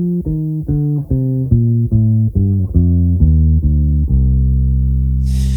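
A two-octave Dorian scale played note by note at an even pace on a low, resonant instrument, stepping steadily through the scale before a final held note. Loud and close, with no talking.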